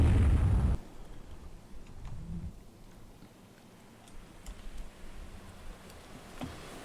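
Naval gunfire in the Rule the Waves 3 cruiser battle at Taranto opens with one loud, booming blast that cuts off sharply, followed by faint distant rumbles and thuds.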